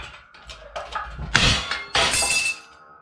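A motorcycle wheel hub gives way under a 20 ton hydraulic press, a loud close crack and shattering burst after a few creaks and clinks, followed by a second rattling crash of metal pieces.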